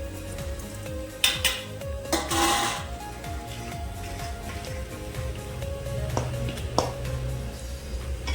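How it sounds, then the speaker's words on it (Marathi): Fish pickle with hot oil and lemon being mixed in a bowl, a steady close scraping and clattering of the spoon against the dish with occasional louder knocks, and no voices. "व्यवस्थित मिक्स करा।"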